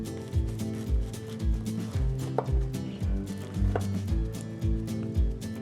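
A knife slices through a smash burger and a traditional burger on a board, giving a steady run of dull, close thuds roughly every half second, with no talking.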